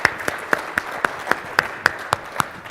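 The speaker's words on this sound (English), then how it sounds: "He gets an applause" Scattered applause from a conference audience at a cybersecurity session, heard as a few separate claps spaced roughly evenly, close and crisp, with no talking.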